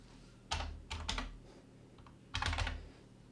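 Typing on a computer keyboard while setting up CAD/CAM machining values: quick clusters of key clicks in three short bursts, close and clear, with no talking.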